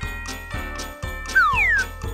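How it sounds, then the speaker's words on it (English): A jingling Christmas sleigh bell rings in a steady, evenly spaced rhythm of bright metallic tinkles, close and fairly loud, with a brief whistle-like glide partway through and no speech. "It is my bell."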